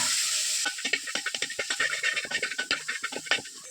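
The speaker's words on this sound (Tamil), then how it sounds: "சேர்த்துட்டு மசாலாவோட நல்லா கலந்து கொடுத்துக்கோங்க." Peeled quail eggs are stirred into masala in a pan, making quick, rhythmic scraping strokes up close over a soft background sizzle, with no talking.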